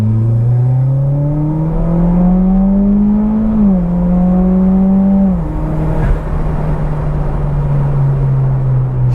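Mitsubishi Evo X MR with a built SST gearbox and upgraded clutches pulling hard up a hill, engine note rising loud and smooth, then a quick upshift around four seconds, a second near five and a half, and sustained droning cruise.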